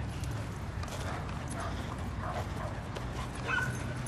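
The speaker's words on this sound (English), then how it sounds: "So these dogs are going crazy." Several dogs loose off the leash for the first time, a steady outdoor rumble with scattered yips, whimpers and barks plus quick footfalls that sound like clip-clop, loud and continuous across the whole stretch.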